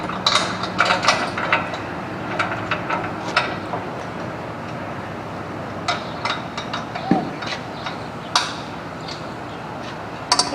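Metal clicks and clanks as a wildland fire hose roller is lined up and fitted into a vehicle hitch receiver, irregular close ratcheting and knocking taps against a steady background hum.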